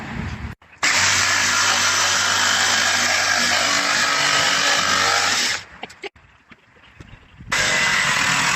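A power drill bores window holes through a campervan wall from a template, giving a loud, steady grinding whine for about five seconds, then a quieter pause before the drilling resumes at the end.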